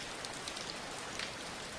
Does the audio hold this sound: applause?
no